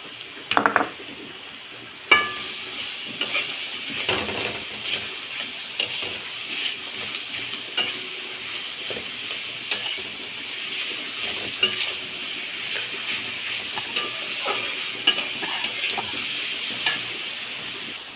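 Potatoes frying in a pan, a steady hiss of sizzling oil with repeated scraping and clinks of a spoon stirring against the metal throughout.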